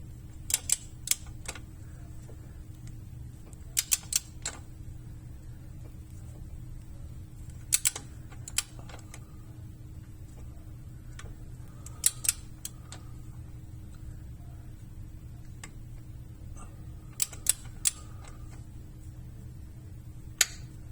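Torque wrench set to 7 foot-pounds tightening bolts one by one on a Mazda transmission during a fluid change, heard as sharp clicks in small clusters every few seconds over a low steady hum, without talk.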